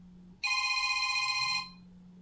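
A cell phone rings with a steady electronic trill that starts abruptly, holds for about a second, then cuts off, fairly loud and close in a quiet room.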